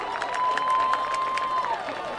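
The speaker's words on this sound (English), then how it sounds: "That's got this crowd fired up." A high school football crowd at Trinity versus Plymouth roars and cheers in a dense, sustained wash with a whistle tone running through it, heard from the stands at a lively, steady level.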